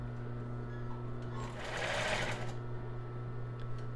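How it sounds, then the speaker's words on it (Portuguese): A sewing machine stitches elastic onto a cropped top with no bra cups, its steady motor whirr running close and continuous, swelling louder through the middle of the run over a constant low hum. "Eu vou virar e fazer uma outra costura aqui na parte de baixo"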